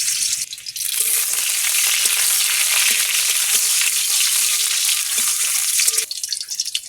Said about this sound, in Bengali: গরম হয়ে গেছে রসুন দেবো তৈরি